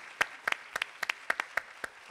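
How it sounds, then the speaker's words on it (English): Sparse, individual hand claps follow a debate at a Silicon Valley Oxford Union–style event, about a dozen distinct, fairly faint claps in an uneven rhythm, sounding like only a few people clapping. "Another round of applause for everybody."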